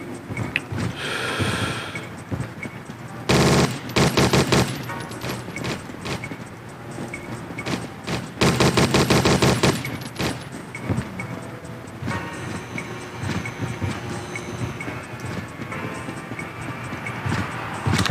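Lawgiver pistol gunfire in the video game Judge Dredd vs Death: two loud, dense bursts of rapid shots stand out over a busy, noisy game soundscape, with no talking.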